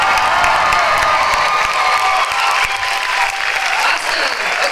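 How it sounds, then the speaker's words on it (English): A convention panel audience at MomoCon bursts into sustained applause and cheering, a dense, loud wash of clapping with whoops and shouts running steadily throughout. "I want you to clap again."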